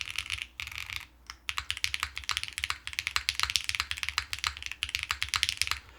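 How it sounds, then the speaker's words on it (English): Typing on a Mode SixtyFive mechanical keyboard fitted with deep-sounding blue cheese switches, a steady flurry of close, crisp clacks in quick irregular rhythm with a brief pause near the start. "The one thing I really like about the blue cheese switches is they're just nice to type on."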